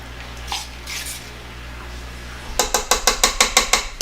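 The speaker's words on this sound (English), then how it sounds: "take my peanut butter and put it in to my mixer here" Stand mixer working peanut butter with rapid, regular mechanical clicking pulses that start partway through after a quiet stretch, loud and close, with no talking.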